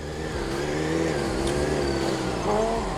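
A motorcycle engine running steadily, set up for deadspin riding with 3.5 bar in the rear tyre, drones close and fairly loud throughout with a slight rise in pitch near the end.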